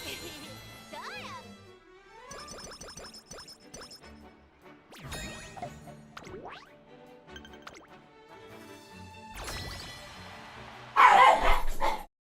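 A dog barks and yips in Umamusume: Pretty Derby as a few short, bright barks spread among game sounds, ending in a louder noisy burst.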